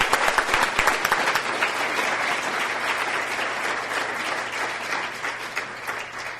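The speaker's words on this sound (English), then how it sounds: "But a round of applause for David." Applause for an award recipient at a disability awareness awards ceremony, a full room clapping loudly and steadily, starting with a few sharp claps and holding dense throughout before tapering slightly near the end.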